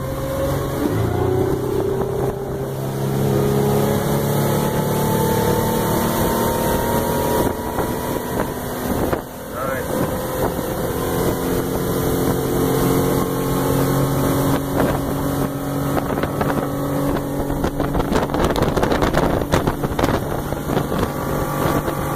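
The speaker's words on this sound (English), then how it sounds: "explore the 250 horsepower iVTEC Accord Drive V6 outboard motor. Badass, quiet, fuel efficient, and fast" A Honda Marine 250 hp iVTEC V6 outboard motor drives a boat across a lake, giving a steady, even engine drone with constant rushing water and light wind buffeting throughout, with no voices.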